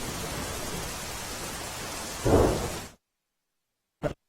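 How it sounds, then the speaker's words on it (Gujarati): Heavy rain falling during flooding in Vahiya village, Botad district, a dense steady hiss of downpour with a louder swell near the end before it cuts off abruptly, followed by near silence and one brief burst. "છેલ્લા ત્રણ દિવસથી વરસાદ પડી રહ્યો છે"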